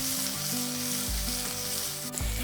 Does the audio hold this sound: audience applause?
no